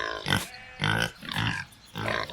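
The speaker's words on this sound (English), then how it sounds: "Pigs!" A pig grunts and oinks in four short nasal bursts with brief pauses between them, close and fairly loud with no talk.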